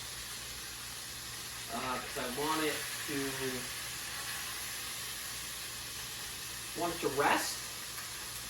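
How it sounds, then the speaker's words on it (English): A medium-rare steak sizzles in a hot pan, a continuous broadband hiss filling the background throughout while someone speaks briefly over it twice. "you can hear that sizzle, right?"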